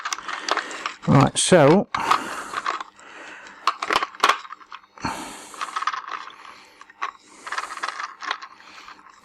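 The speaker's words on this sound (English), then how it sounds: "see if I can find my magnetic tool and get these screws out" Small screws come out from inside a 60GB fat PS3 during a Blu-ray drive replacement, making scattered metallic clicks, ratcheting taps and scrapes. A voice speaks briefly between them.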